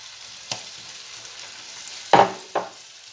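Tomato in a frying pan, soft background sizzle broken by a few spatula stirs and scrapes, with one louder clatter past the two-second mark and a lighter one just after.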